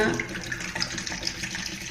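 Cold water from a tap or fridge pours over Devgad Hapus mangoes to soak them before making aamras; a steady, close splashing stream runs throughout without pause.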